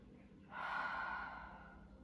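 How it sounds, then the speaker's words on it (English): A single deep breath taken during a yoga stretch flow, a soft airy inhale swelling in after a quiet pause and easing into a long, gentle exhale, close and fairly faint with no talking. "Take the biggest, deepest breath you've got."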